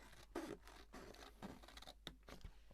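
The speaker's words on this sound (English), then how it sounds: "I'm going to cut the flap bit all the way up to the back bit off." Scissors cut along a paper envelope flap, giving a run of faint, scratchy snipping and rustling strokes at close range, with no voices.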